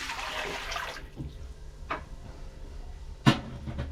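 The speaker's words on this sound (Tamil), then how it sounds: "எடுத்து வச்சுட்டு ஒரு சொம்பு தண்ணி ஊற்றிக்கிறேன்" Water is poured from a jug into an idli steamer pot in a home kitchen, a short splashing pour followed by a few faint clinks and a sharp knock of metal near the end.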